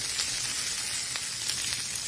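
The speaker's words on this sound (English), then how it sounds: "I've got my Brussels sprouts in my skillet" Brussels sprouts in a single layer sizzle in a skillet, giving a steady, close frying hiss with small crackling pops throughout.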